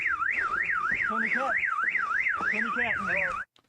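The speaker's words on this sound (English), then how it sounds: "Now we can see that they set off the car alarm to top everything off." A car alarm wails loudly in a war-zone street, a rapidly rising and falling siren tone repeating steadily, with shouted voices underneath, cutting off abruptly near the end.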